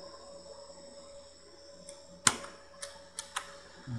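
Computer keyboard typing while writing HTML code, a handful of sharp, separate keystrokes close by at an irregular pace, with one louder clack among them over a faint steady hum.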